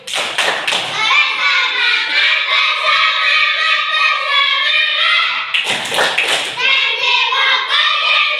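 Elementary schoolchildren in a second-grade class perform a 'tepuk fokus' focus clap routine, with sharp bursts of rhythmic clapping at the start and again near the end, and chanted voices sustained in between.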